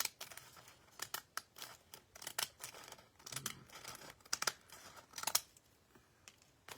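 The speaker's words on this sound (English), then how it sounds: "trim this both sides with these cute scissors here" Scissors trim both sides of a feed bag journal's paper pages at once, making quick, quiet, crisp snips in irregular bursts, close up, with faint paper rustling between cuts.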